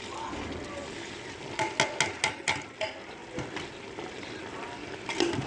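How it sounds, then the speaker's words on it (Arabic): Tomatoes stir-fried in a pan for a minute or two in home cooking, a steady sizzle broken by a quick run of sharp spatula scrapes and taps against the pan, close and moderately loud. "بعد الدقيقة من التكشين بضيف لها الطماطم"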